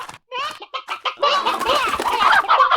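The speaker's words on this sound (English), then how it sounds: "don't know if chickens eat, but sure, they're very loud" Chickens in the Slime Rancher video game cluck loudly and close, with a few short separate clucks followed by a dense overlapping burst of squawking.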